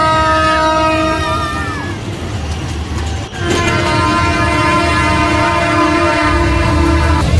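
A small toy ride train at the Pen festival carrying children, its horn or whistle tooting loudly in sustained melodic notes over a busy fairground din.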